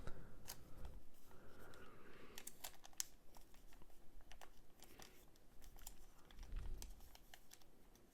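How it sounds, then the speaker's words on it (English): Crisp paper folding for an origami pagoda tower, with a run of sharp creasing snaps and crinkles near the mic, some taps and a soft rustle under them, and no voices. "then you fold towards the middle"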